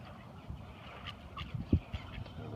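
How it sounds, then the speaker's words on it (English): A duck at a bird sanctuary gives a few short, scattered quacks amid outdoor background noise, one louder call standing out near the middle as it chases another bird away from food. "And the duck is running him off."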